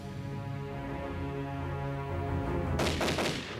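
Crackling volleys of gunfire break out near the end, loud and sharp against a steady tonal hum of old archival sound from the 1956 Hungarian uprising.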